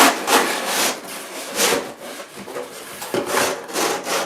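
A wooden piece is pressed into a wooden box frame for a Christmas tree collar, giving a close, loud run of scraping, rubbing wood-on-wood friction in several strokes with no talking.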